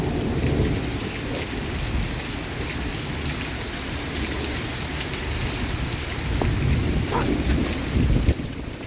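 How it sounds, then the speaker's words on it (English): Heavy wind-driven rain pours steadily onto a homestead porch during a thunderstorm, a dense unbroken roar with low rumbling thunder building toward the end. "We got sideways rain coming on the porch."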